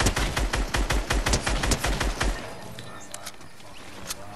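Rapid automatic gunfire from a video game rattles off in a fast, even burst for about two seconds, loud and close, then cuts out, leaving faint scattered game noise.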